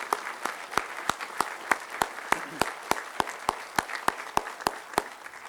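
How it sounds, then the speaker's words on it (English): Applause for a choir at a Veterans Day program comes as sparse, evenly spaced claps in a steady rhythm, fairly faint and close, with little crowd noise around them. "let's give a round of applause for the choir"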